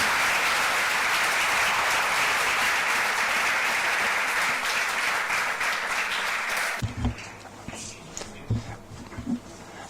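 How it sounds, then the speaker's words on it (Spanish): Loud, dense applause from a conference audience for UFO historian and researcher Chris Aubeck, sustained for about seven seconds before cutting off abruptly, after which a few scattered claps and room noise remain. "para el cual quiero pedir un fortísimo aplauso"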